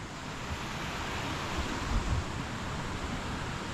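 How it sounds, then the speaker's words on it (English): Steady broadband roar of a hidden waterfall reached on a ride, a continuous rushing wash of falling water heard at moderate distance with no talk over it. "Finally reached to our secret waterfalls."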